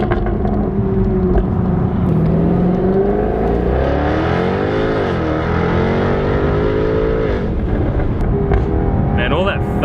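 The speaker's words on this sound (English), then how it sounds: "Just got this thunderous exhaust note that just assails your ears" A Jaguar F-Type V8S accelerates hard on a city strip, its V8 exhaust roaring loud and thunderous through rising gear pulls, heard from inside the car with a voice talking over it.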